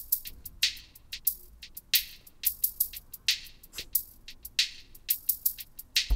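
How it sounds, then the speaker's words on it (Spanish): An OP-Z synthesizer plays a rhythmic stream of crisp, hissy percussive hits with reverb added. The hits are washed with short smeared tails over a low background hiss. "Vamos a ponerle reverb."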